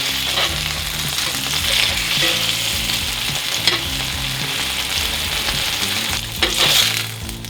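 Vegan salmon fillets fry in a pan with a continuous close, loud sizzle and crackle, and brief stirring or scraping touches rise over the steady hiss, with no talking.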